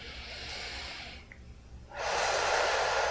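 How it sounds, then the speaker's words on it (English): A person takes a slow, deep breath: a long airy inhale that fades, a brief pause, then a stronger, louder exhale rushing out close to the microphone, with no speech. "Take a deep breath."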